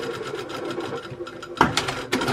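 A sewing machine stitches a large fabric hair bow, running steadily in short bursts with a few louder backstitch clatters near the end, close and clear without talk.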